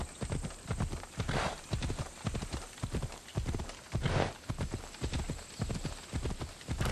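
In Assassin's Creed Odyssey, a horse's hooves clip-clop in a steady, continuous trot, close and even throughout, with no one speaking.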